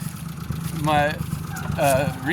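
A restored green turbocharged kei car runs with a low engine rumble, louder than normal from an exhaust leak, while people talk nearby.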